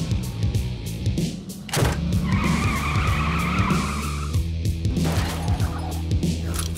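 Car tires skidding during a taxicab chase on a John Wick pinball machine, a loud screech and engine roar over the game's busy electronic soundtrack.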